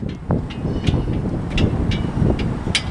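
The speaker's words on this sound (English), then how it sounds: "That wind is kicking." Strong wind gusts across open Independence Plaza at Space Center Houston, buffeting the microphone with a loud, steady low rumble and brief swells.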